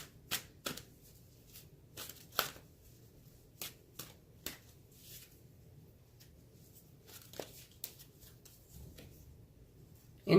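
A deck of oracle cards being shuffled and drawn, with crisp riffles and sharp card snaps scattered irregularly over about ten seconds, close and fairly quiet with no voices.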